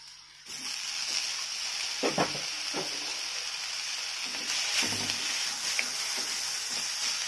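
Tomatoes fry with prawn curry masala for a Chettinad prawn kulambu, giving a steady, close sizzle with several spoon-stirring scrapes and soft splatters throughout.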